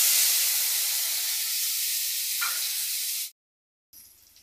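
Soaked dried mango pieces (amshi) hit a hot pan after tempering spices and set off a loud, steady sizzle that holds for about three seconds, then cuts out abruptly before a faint hiss returns.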